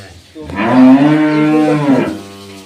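An American dairy cow lets out one long, loud, drawn-out moo close by, rising and then holding steady before it fades, with no voices over it.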